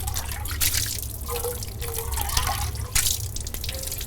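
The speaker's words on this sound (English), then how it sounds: "rinse thoroughly" Running water streams over a steel utensil being rinsed at a sink after scrubbing, a steady close splashing and trickling with occasional drips and clinks, no voices.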